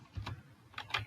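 Bangla text being typed on a computer keyboard, a few quick soft key taps in two short bursts, faint and close.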